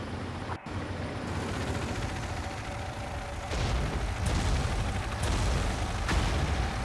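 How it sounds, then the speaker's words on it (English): Continuous rumbling battle noise with several dull booms and bursts rising in the second half, like distant explosions inside a refinery compound in the game Tom Clancy's EndWar. "Explosions inside the refinery compound."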